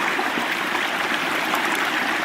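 Near-freezing stream water flowing off a frozen lake on a survival trek, a steady close rushing and burbling wash that continues evenly without any talk.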